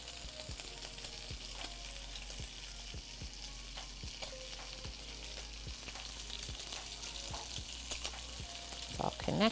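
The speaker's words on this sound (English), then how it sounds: "Can you guys hear the bacon sizzling?" Lean bacon sizzles and crackles steadily in a frying pan for Ukrainian cabbage rolls, a soft continuous hiss with scattered pops and light stirring clatter near the end.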